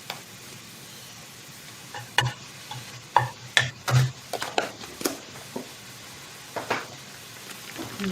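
Ingredients, including garlic, are stirred in a pan while cooking a vegan rendang, with scattered close scrapes and knocks of the spoon over a faint, steady sizzle.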